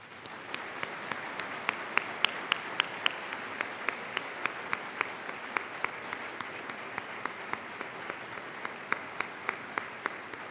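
A luncheon audience applauds the ARCS 2013 class of fellows with sustained, even clapping from a large room, crisp individual claps standing out over the dense wash of hands for the whole stretch, no talk.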